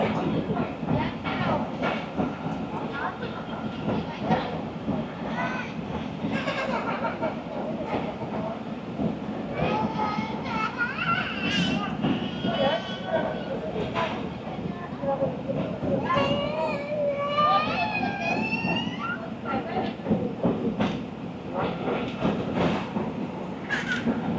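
The Rawal Express rolls along the rails and slows, a steady rumble with rhythmic clatter and some squealing wheel tones, heard from inside with people talking over it.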